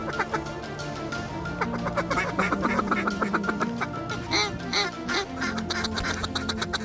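Wild ducks quacking during a duck hunt near the end of legal light, a busy cluster of repeated quacks and calls at moderate distance under a steady outdoor background, with no talk.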